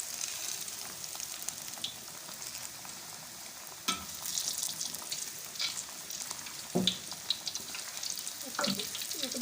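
Katlama flatbread frying in hot oil, a steady close sizzle with crackling bursts and a few scraping or stirring sounds, with no talking.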